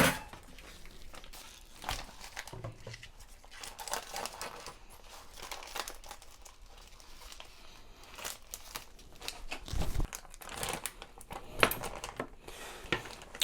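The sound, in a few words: cutting open the sous vide bag of frozen pork tenderloin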